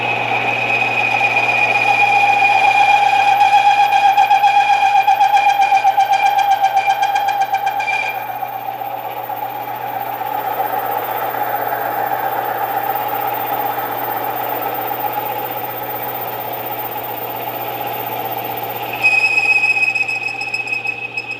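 A lathe taking a heavier cutting pass while building a taper attachment, with a steady motor hum and a high sustained squeal that changes pitch partway through and returns near the end, loud and close.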